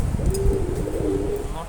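A pair of silver Gorra pigeons coo softly up close, a couple of low throaty murmurs rolling together over a little background noise.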